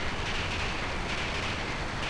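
A train runs steadily in the Final Fantasy 8 video game as a continuous rumbling, hissing roar, fairly close and unbroken throughout.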